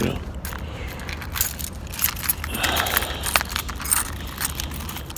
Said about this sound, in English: I'm just getting my keys out so we can go in.